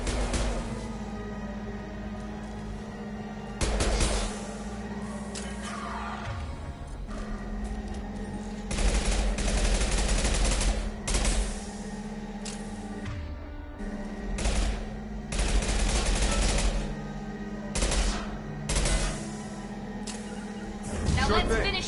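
Gunfire in Mass Effect 2 comes in sharp, scattered bursts of shots, some in quick clusters, over a low steady hum, with people talking throughout.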